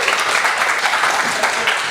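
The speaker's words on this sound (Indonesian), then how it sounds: "Tepuk tangan buat kita semua." An audience applauds loudly and steadily in a live talk show setting, a dense continuous clatter of many hands filling the whole stretch without speech.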